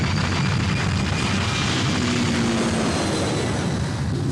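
Aircraft engines roaring steadily at full power during a go-around in a 1988 French film, a dense continuous drone with no talking.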